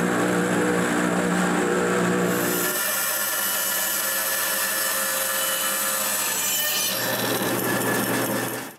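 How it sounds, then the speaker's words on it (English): A plug cutter boring walnut plugs, with a loud continuous power-tool whir and a grinding cut that drops in pitch partway through, then winds down at the end, and no talking. "With a plug cutter, I cut 5 walnut plugs."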